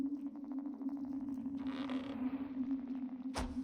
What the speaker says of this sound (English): The door is frozen shut. It won't budge.